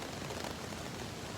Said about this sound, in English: Still raining, pretty decently, nothing horrible